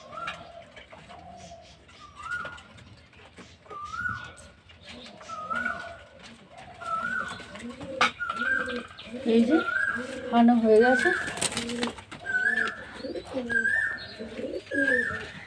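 Pigeons coo in a steady, repeating rhythm while each bird is given half a syringe of water as part of a deworming course. A person talks over the calls, which grow louder and busier toward the end.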